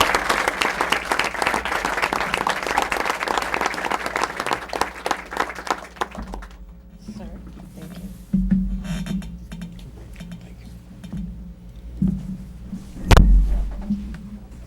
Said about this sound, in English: give one more round of applause to both our students and our educators